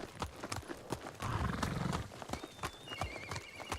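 Horse hooves clip-clop in quick repeated steps in Red Dead Redemption 2, with a short whinny partway through, all fairly close and clear with no talk over it.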